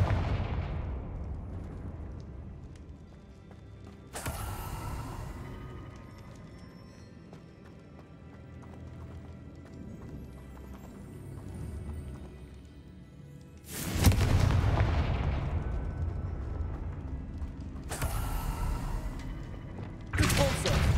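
Confringo blasting spells cast in Hogwarts Legacy, several sharp booming blasts spaced apart, each with a loud broad burst and a decaying tail over quieter ambience.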